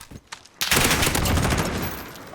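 Heavy burst of gunfire erupts in a competitive bomb-mode video game match, a dense, sustained fusillade of overlapping shots after a brief quieter lead-in, loud and continuous to the end.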